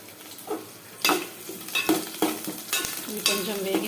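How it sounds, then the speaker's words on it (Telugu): Onions and garlic fry in a pan for a jackfruit seed dish, with a constant sizzle punctuated by repeated scraping strokes of a stirring spoon close up. "ఉల్లిగడ్డ, వెల్లుల్లి అన్నీ వేసేసుకొని కొంచెం ఫ్రై చేసుకుందాం. ఉల్లిగడ్డ బ్రౌన్కి వచ్చే వరకు వేయించుకుందాము."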